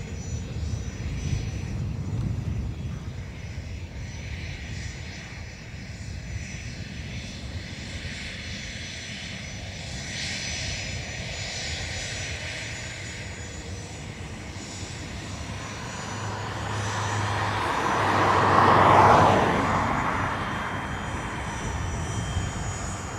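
An Airbus A330 lined up on the runway at Dublin Airport for San Francisco, its engines a steady distant rumble that swells louder toward the end.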